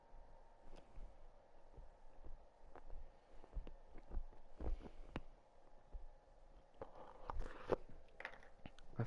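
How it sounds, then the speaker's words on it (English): Close, crisp chewing and biting with irregular crunchy clicks and soft mouth noises, fairly quiet, with no talking. "I feel like me chewing on that makes like really loud sounds"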